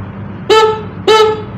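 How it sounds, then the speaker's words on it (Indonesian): Standard motorcycle horn with a thin, snail-like bleat, two short, loud beeps about half a second apart, heard up close over a faint background hum. "Tapi suaranya kayak klakson keong."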